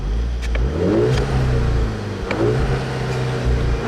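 A 2010 Volkswagen GTI with a six-speed manual revs hard toward its rev limiter, twice climbing and dropping back, loud and close from inside the car at night.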